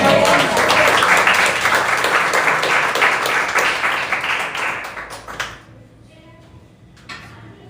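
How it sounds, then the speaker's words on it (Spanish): A church congregation breaking into sustained, dense applause close by, loud and steady for about five seconds before tapering off into quiet room sound with a last faint clap or two. "Eso merece una vez, un aplauso."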